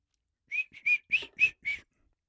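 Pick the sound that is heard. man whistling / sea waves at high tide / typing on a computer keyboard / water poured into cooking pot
man whistling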